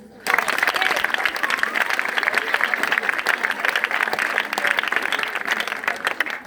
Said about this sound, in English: Can you clap for me?